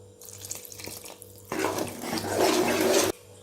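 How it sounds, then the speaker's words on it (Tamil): Water poured into a meal maker (soya chunk) masala gravy in a pan, a brief splashing rush that starts abruptly, runs for a couple of seconds and stops, close and fairly loud. "இப்போ தேவையான அளவு தண்ணி சேர்த்திடலாம்."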